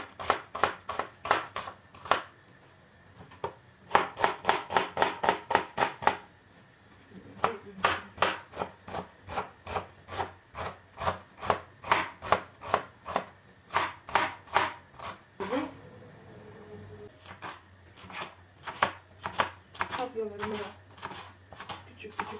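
A knife chops an onion into small pieces rapidly and rhythmically on a cutting board in long runs of quick taps, close up, pausing now and then before starting again.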